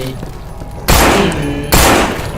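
Machine gun fire in the zombie shooter No More Room in Hell erupts in two loud, rapid bursts, each rattling for under a second, separated by a brief lull and backed by a low game background hum.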